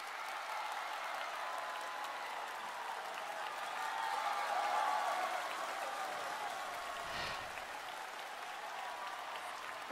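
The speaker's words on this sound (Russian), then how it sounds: "Небольшая пауза в зале и взрыв аплодисментов." An audience bursts into sustained applause after a concert performance, a broad wash of clapping that swells toward the middle and stays steady, heard at a slight distance.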